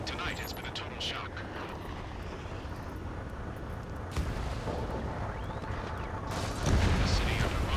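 Ace Combat 7 combat scene in a city under martial law: rumbling artillery and gunfire blend with the roar of jet aircraft, a continuous dense barrage that swells louder near the end.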